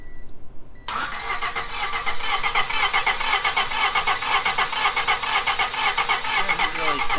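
Car engine cranking with no start, heard after a short quiet spell as a sudden loud, steady, rhythmic churning that keeps going for several seconds, close and unbroken.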